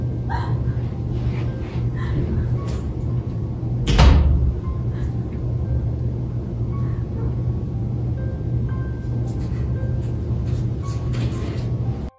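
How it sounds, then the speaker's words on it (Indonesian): A basement door slamming shut on its own: a single heavy, close thud partway through, set against a low, steady background hum with scattered faint knocks. "Dengan diiringi pintu basement yang membanting menutup dengan sendirinya."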